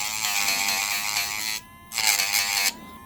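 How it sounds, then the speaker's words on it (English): A YABIFE electric nail grinder whines steadily while grinding a dog's toenails, a loud close high-pitched buzz that dips briefly as the grinding pauses, then resumes and drops off again near the end, with no talk. "but I like to grind them a little bit more."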